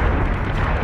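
Ship weapons fire in Battlestar Galactica Deadlock, a loud, dense blast of booming explosive roar that holds steady for under a second with no pauses.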